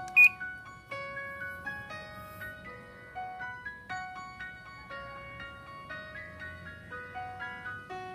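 Panasonic top-load automatic washing machine set to spin mode, its control panel sounding a long run of electronic beeps and tone changes, steady and fairly close, with no talk.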